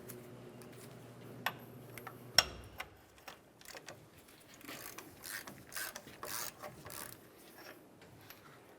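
Ratchet wrench clicking as a brake caliper bolt is unscrewed on a 1994-2002 Dodge Ram 2500, quiet close ticks and metallic clatter in irregular bursts, no talk.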